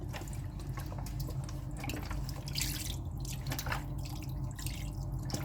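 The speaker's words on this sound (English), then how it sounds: "we're going to put about 5 cups of chicken broth in here" Chicken broth pours from a 48-ounce carton into a cooking pot, a close, continuous liquid splash and glug with a few brief drip-like spurts, no voices.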